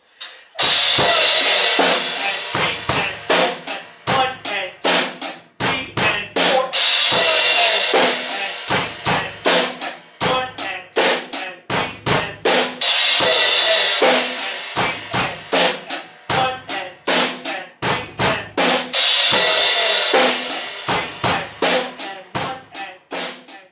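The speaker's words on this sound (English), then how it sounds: "I'm choosing to strike these 2 crash cymbals" A steady drum beat with two crash cymbals struck together, bright washes swelling and decaying repeatedly over punchy kick and snare hits, loud and close.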